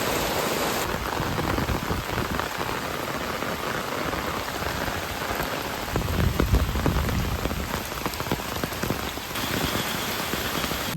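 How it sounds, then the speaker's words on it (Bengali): Steady monsoon rain pours down on a trip through the Dooars region, a dense, even hiss of drops on surfaces that swells briefly louder midway. "বৃষ্টি কিন্তু এখনও পড়ে যাচ্ছে।"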